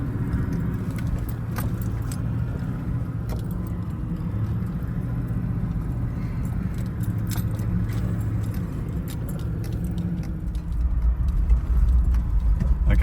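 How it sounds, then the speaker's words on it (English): A car drives across rough grassland at Alligator Billabong in Kakadu, with a steady low rumble and a constant rattle and jangle from inside the cabin, growing louder toward the end. "I'm driving across sort of grassland here"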